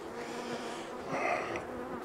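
Honeybees buzz steadily around a hive set on rosemary, a close, continuous droning hum that swells slightly partway through.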